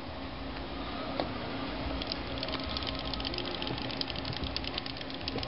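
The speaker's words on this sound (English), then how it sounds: "So we got the motor running and the cap dumping." A small electric motor on a monopole capacitive discharge circuit, driven from an alum battery, whirs faintly and steadily with a fine rattling buzz and rapid ticking pulses from the capacitor dumping, all at low level without talk.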